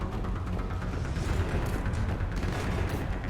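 Distant gunfire in Mass Effect Legendary Edition comes as a faint, continuous rumble of shots and booms that rolls on steadily with no clear single bursts standing out.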